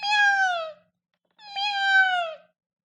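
A cat meows twice, each call long and drawn out with a clear, slightly falling tone, separated by a short pause, close and loud with no talk.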